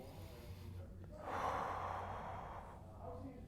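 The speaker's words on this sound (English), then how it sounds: "Take a deep breath." A deep breath drawn in and let out during a foam roller stretch, a soft, airy rush that swells in the middle and then eases off, close but quiet over a low background hum.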